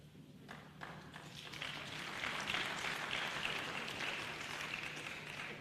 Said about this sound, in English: So they deserve an applause.